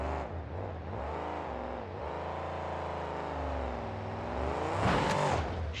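Fargo monster truck engine revving hard during wheelies at a monster truck show, a loud sustained roar that rises and falls in pitch and swells near the end, with no talking.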